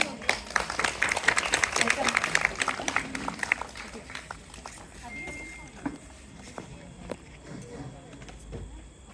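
An audience at a retirement speech claps in a dense burst that thins out over several seconds, while a person talks.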